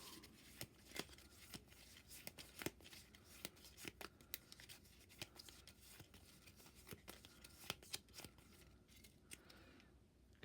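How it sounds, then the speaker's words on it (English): Cards from the Marvel Champions board game being shuffled by hand, a quiet series of irregular soft snaps and riffles spread across several seconds, close and faint with no talking. "We'll shuffle those guys up."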